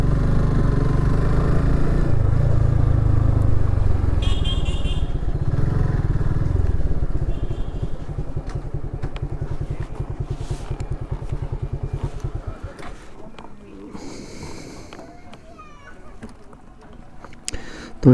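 Motorcycle engine running at a steady low idle for about twelve seconds as the bike is parked near Kantaji temple, then cutting off, with voices talking over it.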